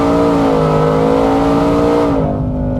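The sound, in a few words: Ford F150 truck engine revving and shifting gears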